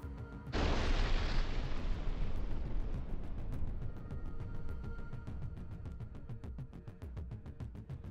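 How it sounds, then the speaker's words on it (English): A sudden heavy blast of a self-propelled gun's ammunition explosion erupts, followed by a long rumbling roar with crackling and sharp secondary pops continuing throughout. "there was an epic ammunition explosion that left no part of the self-propelled gun"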